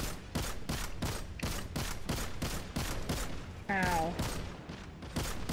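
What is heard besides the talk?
gunshots from Merciless weapon in Destiny video game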